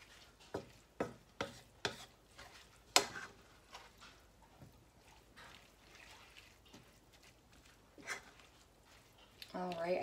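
Spring roll filling mixed with garlic powder, a series of soft rhythmic scraping and tapping strokes in a bowl, fairly quiet, with light wet stirring and a louder rustle at the end.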